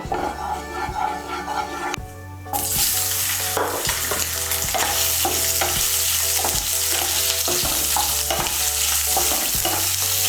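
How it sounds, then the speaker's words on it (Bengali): Soybean chunks fry in a spoonful of hot oil in a wok, starting as a soft sizzle and then jumping to a loud, constant crackle with a repeating rhythm of spatula stirs. A dog barks faintly in the background. "তেলটা গরম হলে এর মধ্যে প্রথমে আমি সোয়াবিনগুলোকে ভেজে নেব।"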